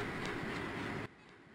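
Simulated passenger train in the Open Rails train simulator braking as it pulls into a station platform, a steady loud rumble of wheels and rail noise that cuts off abruptly partway through, leaving a quieter hum.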